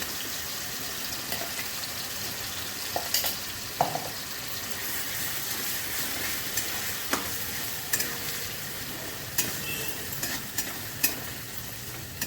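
A raw banana kofta mixture with garlic, nigella seeds, green chilli, salt and sugar fries in oil, a steady moderate sizzle across the whole stretch broken by scattered soft clicks and taps of stirring.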